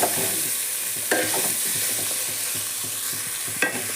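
Pirandai (adamant creeper) for thuyal frying and being stirred in a pan, a steady bright sizzle with a few louder scrapes of the spoon near the start and end, no voices.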